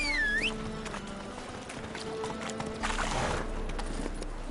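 Hooves of Roach, a horse in The Witcher 3 video game, clip-clop steadily at a gallop beneath game music and ambient sound, with a brief whinny-like tone near the start.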